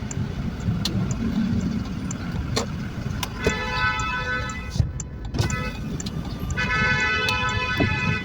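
Car horn honking amid traffic, with stacked harmonic horn tones sounding in bursts around the middle and near the end over a steady rumble of idling engines.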